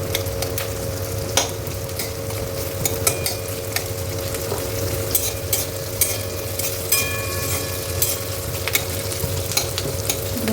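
Paneer cooking in a pan with continuous frying and stirring, a steady sizzle broken by frequent spatula clicks and scrapes against a low background hum, close and unbroken.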